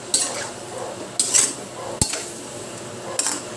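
Radish pieces for pork liempo sinigang drop into a cooking pot in a few sharp clattering knocks, close and distinct, with light metallic clinks.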